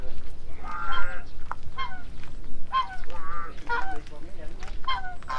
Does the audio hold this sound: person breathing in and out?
no